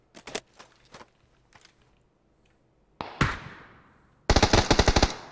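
Gunfire in PUBG: a few scattered shots, then one booming report with a long echoing tail, followed by a rapid, loud automatic burst up close.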